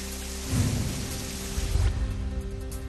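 Light rain falls over farmland in Hingoli after a ten-day dry spell, a steady broadband hiss with a few louder surges, continuous throughout.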